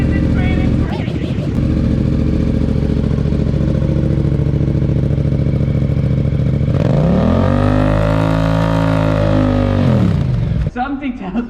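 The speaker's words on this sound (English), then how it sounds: "we're gonna try just revving it and see if we can fill up the balloon" A motorcycle engine revs hard with a balloon fitted over its exhaust, a loud close steady drone that climbs in pitch partway through, holds high, then drops back near the end.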